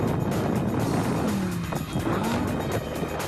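Supercars race and drift on a snowy ski slope, with engines roaring and whining loudly and continuously, rising and falling as they pass nearby.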